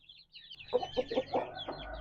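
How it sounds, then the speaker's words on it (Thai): Hens, a rooster and chicks cluck in a short burst of quick, fairly quiet calls from the flock, with no talk. "ไม่ว่าจะเป็น แม่ไก่พ่อไก่แล้วก็ลูกไก่นะครับเพื่อน"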